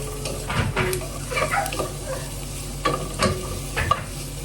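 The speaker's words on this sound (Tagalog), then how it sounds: "nag gisa lang ako ng onion um, luya, saka little bit na garlic" Onion, ginger and garlic sauté in a pan, a soft sizzle broken by several scraping stirs of a utensil heard close up.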